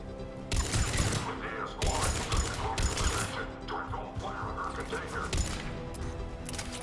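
Gunfire in the Mass Effect Legendary Edition video game, with dense bursts of shots and mechanical clatter in a loud, continuous firefight, alongside game voices.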